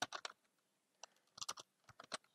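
Quick bursts of computer keyboard typing, close and clear, with irregular clusters of key clicks separated by short pauses while someone codes in JavaScript.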